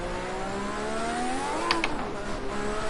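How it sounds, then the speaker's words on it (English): Lotus race car at full throttle out of a hairpin, its engine note climbing steadily in pitch as the turbo spools up, with a brief sharp chirp near the end; close, continuous and fairly loud. "you hear that turbo kick up right at the last minute"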